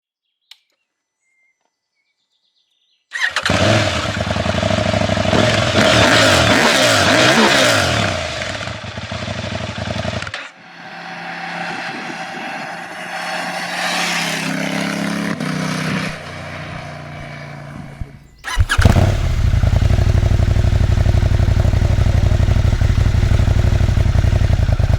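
Husqvarna Norden 901 Expedition adventure motorcycle engine while riding, loud and close after a quiet start, with its tone shifting through several sustained stretches, a brief dip and then a strong surge.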